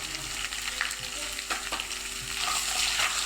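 Garlic and ginger fry in oil in a pan for homemade hotel-style misal, giving a steady close sizzle with a few soft stirring scrapes and no voices.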